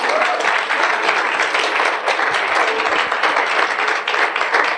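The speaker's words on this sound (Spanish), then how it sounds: "va a darle un aplauso, déselo al Eterno" A church congregation applauds together, a dense, loud, steady wash of many hands clapping at once that holds evenly throughout without a break.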